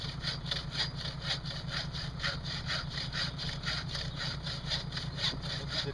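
Hand saw blade cutting through wood with a steady back-and-forth rhythm of rasping strokes, close and continuous, under an outdoor ambience.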